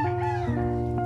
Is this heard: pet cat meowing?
yes